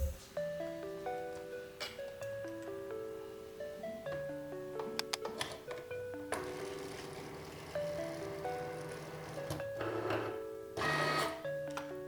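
Cricut cutting machine working a custom vinyl design for a personalized tumbler, whirring motor moves in a shifting series of tones with clicks and short mechanical bursts, close and steady.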